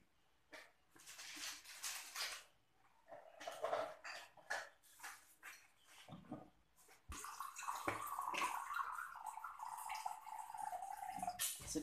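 Water is poured into a blender full of lemongrass, chilli, garlic, anchovies and torch ginger flower while making a pucuk ubi dish, with scattered kitchen clatter first and then a steady splashing pour.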